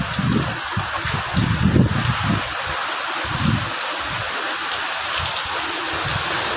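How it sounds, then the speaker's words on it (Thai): Heavy summer storm rain pours down loudly and steadily with gusting wind, a dense continuous wash with a few rougher surges early on and no voices. "พายุเขามื้อนี้"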